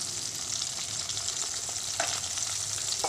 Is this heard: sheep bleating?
no